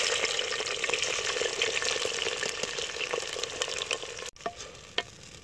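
Onion, green chili and tomato frying in hot oil in a pot, a loud, steady sizzle with stirring scrapes and a few clinks near the end.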